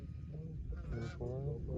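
Geese honking while landing during a goose hunt in Pennsylvania, a cluster of nasal calls heard fairly close over an outdoor background, with no talk.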